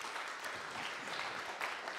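A French tech conference audience at Jamespot Day 2022 applauds, a soft, steady patter of many hands heard from a distance with nothing else over it.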